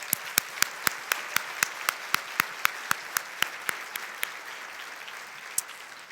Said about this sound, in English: So please, may we applaud them one more time,